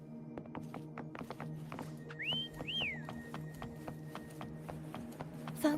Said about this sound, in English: Why don't you call Foam over? Try whistling.